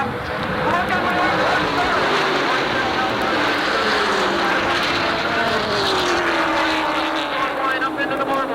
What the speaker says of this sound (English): Awtey makes a beautiful little right, and now he's off to the races after Danny White.